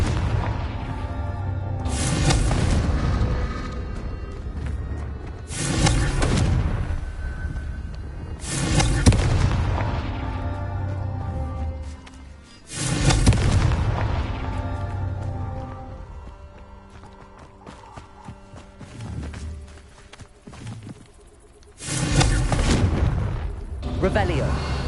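Confringo fire spells explode in the Hogwarts Legacy video game, with a loud boom roughly every three to four seconds over a rumbling game soundscape, and a voice speaking between blasts.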